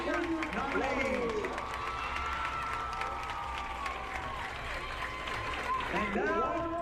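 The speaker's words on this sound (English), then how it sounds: "please give a warm round of applause to our 2025 homecoming senior nominees" A football stadium crowd claps and cheers for the homecoming senior nominees, steady applause across the stands with an announcer's voice over it.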